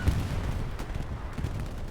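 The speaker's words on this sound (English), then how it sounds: "I hear the bombing run coming across" Bombing run in a World War II shooter video game, heard as a continuous low rumble of distant booms with a heavier thump at the very start.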